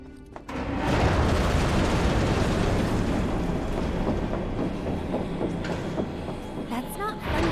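A Final Fantasy 7 Remake train bound for the Sector 7 slums and the train graveyard gives off a loud, steady rumble and roar, with clanking and rattling that continues the whole time.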